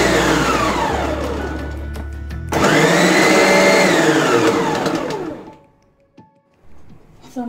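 A mixer grinder whirs loudly, blending fruit juice and pulp for popsicles, with the motor pitch shifting as it restarts mid-run before cutting off into near silence with a few small clunks.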